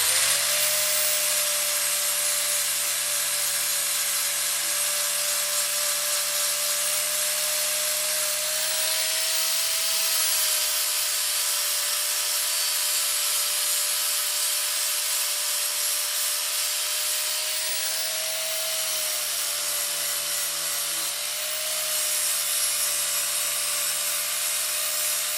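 A power tool grinds paint off an exhaust down to bare metal, a loud continuous abrasive whine and rasp with a steady high tone that barely wavers throughout.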